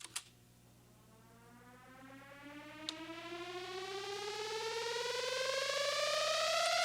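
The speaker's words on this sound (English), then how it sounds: "which is a more of a synth riser" A synth riser in a house track climbs steadily in pitch and builds in loudness over about seven seconds, with a low steady tone beneath and a couple of brief hits near the start.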